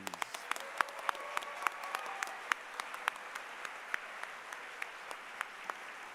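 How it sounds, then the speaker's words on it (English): Banquet audience at the 34th annual Spokane Scholars Foundation event applauding the 2026 English scholars, steady moderate crowd clapping with sharp individual claps standing out, continuing throughout without talk. "For all of the 2026 Spokane Scholars in the category of English, a giant ovation, please."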